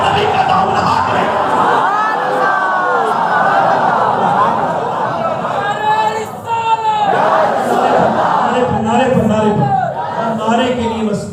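A large crowd at a religious speech gathering chants slogans in unison, a loud, sustained massed roar of voices with rising and falling shouts throughout.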